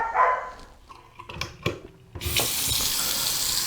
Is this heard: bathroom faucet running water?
yes